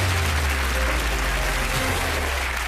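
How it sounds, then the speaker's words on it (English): A game-show studio audience applauds a celebrity contestant and his team, giving a loud, dense round of clapping that holds steady throughout over a low background hum. "Big round of applause for Sam and his team."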